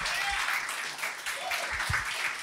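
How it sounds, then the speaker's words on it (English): Audience applause for the women leaders on a leadership panel, steady dense clapping filling the room throughout, with faint voices mixed in. "Let's give a round of applause for our great women leaders."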